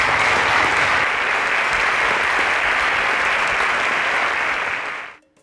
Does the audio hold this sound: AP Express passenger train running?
no